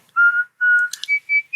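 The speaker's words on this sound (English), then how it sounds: "you will hear the ghostly whistling" Ghostly whistling of a tune, a thin, clear melody of several sustained notes and short glides, loud and close with brief breathy gaps and no talk.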